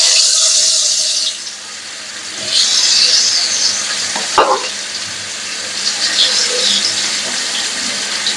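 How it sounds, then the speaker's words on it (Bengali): Eggs fry in hot oil in a pan, a constant loud sizzle with brief stirring scrapes and a sharp clink near the middle, no talking. "এবার আমাদের ডিম সুন্দর করে ভাজা করে দিতে"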